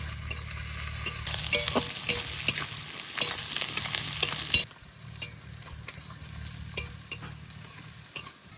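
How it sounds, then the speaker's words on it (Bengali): Sliced onion and garlic cloves fry in a pan with a loud, close sizzle and repeated scraping stirs. The sizzling settles to a quieter, steady hiss partway through, with occasional clinks. "এবার দিয়ে দেবো কোচানো পেঁয়াজ, তার সাথে সাথে দেবো রসুনের কোয়া। এবার একটু ভালো করে ভেজে নেব।"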